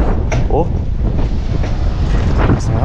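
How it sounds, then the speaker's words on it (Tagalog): Strong wind buffeting a microphone on a house rooftop during steel roofing work, a steady loud roaring rush with gusty swells and faint scattered clanks throughout. "Gawa ng malakas ng hangin."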